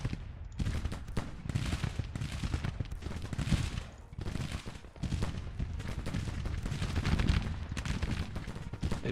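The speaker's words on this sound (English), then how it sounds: "Advance and fire with the cannon." Musket volleys and cannon fire in a Grand Tactician Civil War battle, dense crackling rifle fire mixed with heavy booming blasts, continuous and loud with repeated surges.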